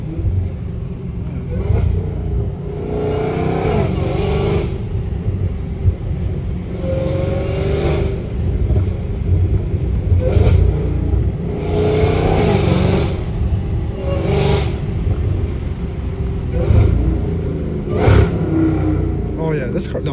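Up close, a catless 800-horsepower Dodge Challenger Hellcat Redeye in the rain rumbles and revs in a series of sharp, loud bursts across the whole stretch, with people talking over the engine noise.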